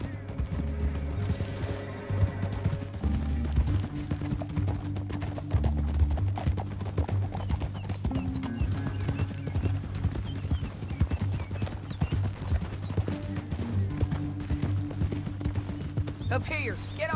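Hooves of several horses gallop in Red Dead Redemption 2, a steady clip-clop rhythm running throughout under a continuous music score, with a horse whinnying and a voice speaking briefly.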